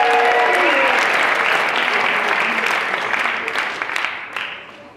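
A banquet crowd at a varsity and JV football awards night breaks into loud applause, thick clapping that holds strong and then slowly thins out toward the end.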